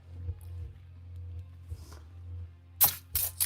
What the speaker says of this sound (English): Got some foaming engine degreaser. We'll put this on here.